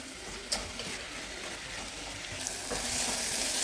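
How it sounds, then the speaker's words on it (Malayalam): Onions sauté with salt in a pan for a beef curry, a close, steady sizzle and frying hiss broken by a few soft stirring scrapes, growing brighter and louder toward the end, with no talking. "കുറച്ച് ഉപ്പിട്ടിട്ട് വഴറ്റിയെടുക്കേ. സവാള ഒന്ന് നല്ലതുപോലെ ഒന്ന് വെന്ത് വന്നോട്ടെ."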